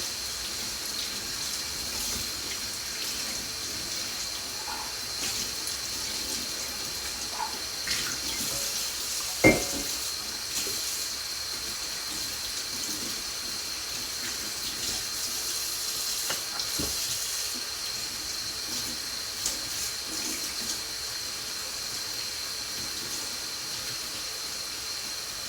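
Tap water runs steadily into a sink while a coffee cup smeared with food and oil is washed, a constant hiss with a few small clinks and knocks scattered through, no talking.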